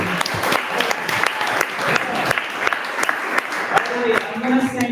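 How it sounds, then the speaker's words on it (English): Sustained applause from a workshop audience on automated prompt engineering, a steady wash of many hands clapping close by, with some talk mixed in beneath it. "Again, a huge round of applause."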